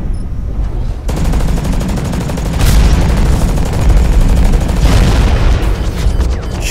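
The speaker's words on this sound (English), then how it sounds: "That missile barrage did me in almost." Missile barrage explosions in the mech shooter game Hawken, a dense, continuous roar of booms and rapid blasts, loud and close, with heavier bursts around the middle and no talking.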